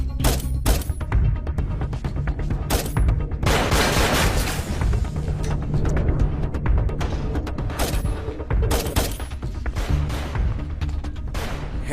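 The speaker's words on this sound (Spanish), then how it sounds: "Estamos recibiendo disparos." Gunfire crackles through an action movie shootout, with dense bursts of shots and heavy impacts running almost continuously at close range, some volleys like automatic fire, over a low rumbling score.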